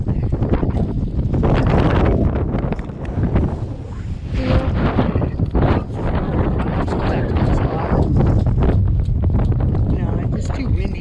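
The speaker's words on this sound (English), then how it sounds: "No, it's too windy." Strong wind buffets the microphone on a dock at Garibaldi, Oregon, a loud continuous roar with gusts, while people talk over it.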